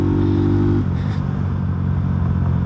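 A carbureted Honda Titan 150 motorcycle with an SFX F-22 exhaust runs close by, holding a steady, buzzing idle before settling into a rougher, broader exhaust rumble. No one speaks.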